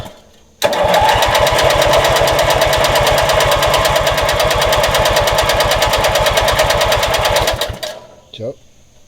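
A vintage Montgomery Ward garden tractor engine cranks and fires, chugging loudly in a steady rapid rhythm for about seven seconds before cutting out, followed by a brief voice.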